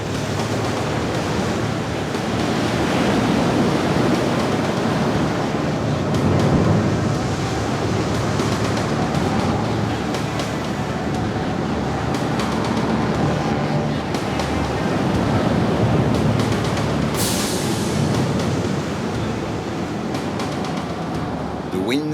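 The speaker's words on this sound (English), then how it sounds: "the wind in the Shetland Islands has a fearsome ally, the waves" Heavy surf pounds the cliffs of the Shetland Islands in a fierce gale, a continuous loud roar of breaking waves and gusting wind buffeting the microphone, with no voices.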